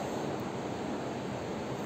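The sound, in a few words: strong wind at Chimmini dam reservoir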